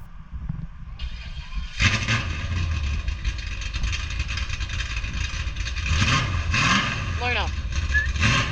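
A Holden VN Calais engine runs with its Veric mufflers closed, a steady, fairly loud mid-pitched drone that starts up after a brief quiet moment, with some revving and a voice talking over it.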